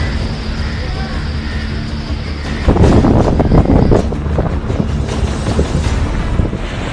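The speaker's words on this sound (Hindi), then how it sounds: "महाराष्ट्र के अलीबाग में निसर्ग तूफान की ताकत और उसकी रफ्तार का अंदाजा इन तस्वीरों के साथ साथ इस आवाज से भी लगाया जा सकता है।" Roaring storm winds of Cyclone Nisarga lashing Alibag, Maharashtra, a constant loud rushing buffet of wind against the microphone that surges harder in gusts midway, with no voices.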